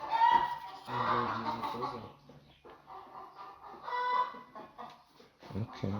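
Chickens cluck and call close by on a farm, with several bursts of clucking and one or two drawn-out hen calls, mixed with a person talking.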